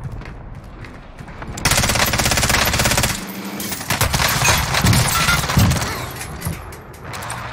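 Finn machine gun firing in Warzone, a long sustained burst of rapid automatic fire at close range, then shorter bursts with brief pauses between them, loud and without any talk.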